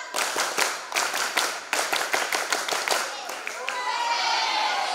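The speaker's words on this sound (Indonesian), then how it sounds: "Tepuk pramuka." Scout group clapping (tepuk pramuka) at a school extracurricular showcase: many hands strike together in sharp rhythmic bursts, a patterned sequence of claps with brief pauses, close and loud, fading into crowd murmur at the end.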